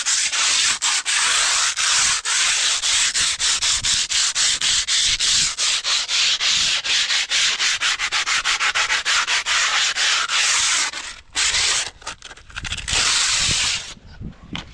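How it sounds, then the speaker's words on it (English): Abrasive scrubbing of a cabin surface ahead of painting: a steady, loud, continuous rasping rub with brief breaks near the end, no voices. "we done scrubbing the place that are needed to climb to this cabin"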